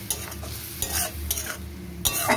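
Chili frying in a pan for a boyal fish curry, a quiet sizzle broken by several sharp scraping stirs of a spatula, close by, with no voices.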